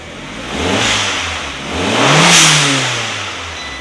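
Turbocharged 1.8T engine in a VW Caddy Mk2 revs through its swapped exhaust, giving a gargling, moderately loud note that rises and falls in two or three blips over a steady idle, heard close and alone.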